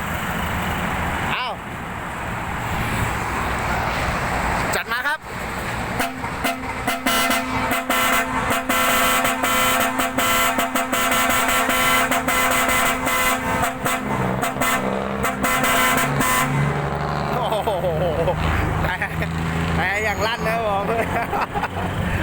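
A loud musical horn plays a sustained tune with steady pitched notes, continuous and close, with some background chatter.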